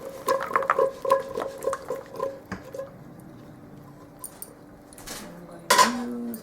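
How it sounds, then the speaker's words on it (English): A spoon scrapes and spreads a pumpkin-flavored visheti dough mixture across a baking tray, with light metallic clinks and scraping strokes close by, then a louder clatter near the end. "I'm going to take this, and I'm going to spread it on my baking sheet."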